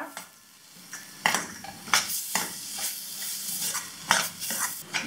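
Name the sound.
stirring and sautéing ingredients in a pan for egg curry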